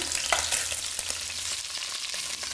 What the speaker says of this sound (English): It is important to brown them on both sides